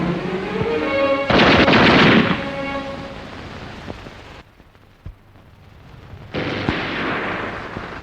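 A machine gun fires from a drum magazine during close-combat training, loud sustained bursts that roar and echo, followed by a quieter stretch with isolated cracks before another heavy burst.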